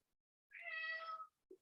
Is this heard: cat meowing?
yes